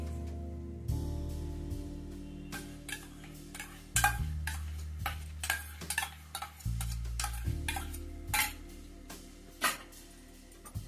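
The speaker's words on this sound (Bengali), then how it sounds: "দিয়ে আমি এবারে একটু নাড়বো।" Repeated sharp clicks and scrapes of a spoon stirring chicken curry with whisked yogurt in a pan, an irregular ticking rhythm over steady background hum with soft music, close and moderately loud.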